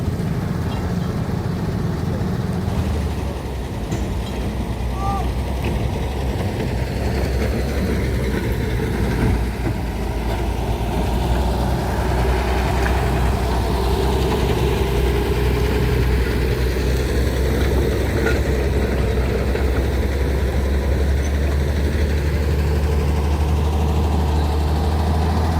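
Locomotive No. 11 runs at a sugar factory, a steady, heavy low rumble that continues unbroken at close range.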